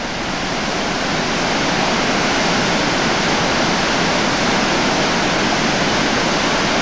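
Fast, powerful river rapids rushing near Tveitafoss waterfall in the Husedalen valley, Norway, a loud, steady broadband roar of churning water that holds constant throughout, close by with no voices.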